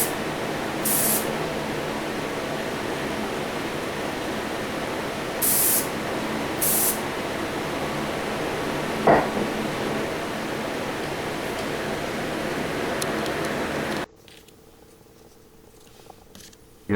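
Aerosol spray paint hisses steadily as a red first coat goes onto a Matchbox Leyland pipe truck, a continuous close hiss with a few brief bursts, then stopping abruptly near the end.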